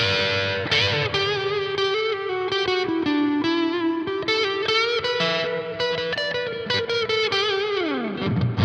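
An electric guitar played through a Mode Four M350 amp rings out in distorted chords and notes with a big, washy reverb tail, loud and alone, ending in a downward slide.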